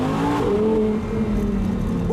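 A 2015 Audi R8 V10 Spyder engine revs loudly and close, its pitch climbing and falling through a short blast, with no talk over it.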